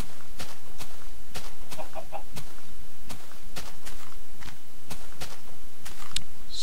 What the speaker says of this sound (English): His name is Bradley, and he is my pet chicken